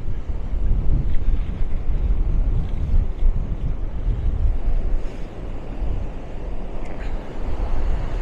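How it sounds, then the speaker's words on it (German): Strong wind buffeting the microphone in a steady roar on the beach at Maspalomas, Gran Canaria, with surf noise blended underneath and no voices. "Es ist nur einfach zu windig,"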